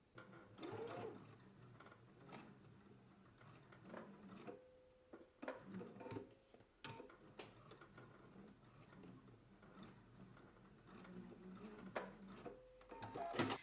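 A sewing machine stitches to reinforce a sleeve placket, running in short bursts of fast mechanical ticking separated by brief pauses; close and fairly quiet, with no talking.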